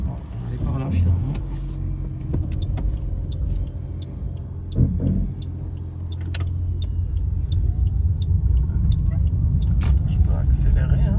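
A Toyota Yaris Hybrid car's engine rumbles and builds as it accelerates, a low steady drone that grows slightly louder toward the end, with a person talking over it.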